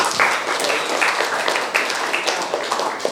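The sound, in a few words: applause for Kak Agus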